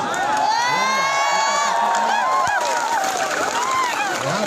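Spectators at a volleyball match cheering and shouting, a loud dense crowd roar with high excited screams and whoops rising over it, continuous and close throughout.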